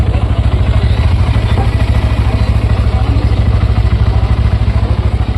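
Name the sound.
Honda CB Hornet 125 motorcycle engine and exhaust sound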